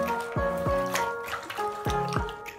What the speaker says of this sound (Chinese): 把这白菜大白菜瓣洗一下